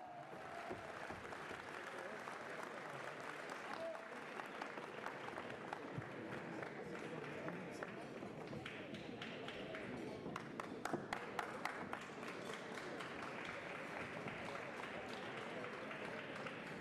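Warm, sustained applause from an audience at a formal French civic gathering, a continuous wash of many hands clapping at moderate distance with a few sharper claps standing out near the middle.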